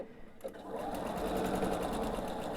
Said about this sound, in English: I'm just going to sew the length of these strips all the way down until I get to the end